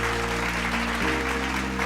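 Audience applause for singers at the grand finale of a televised Indian singing talent competition, a dense steady wash of clapping over a low sustained musical drone throughout.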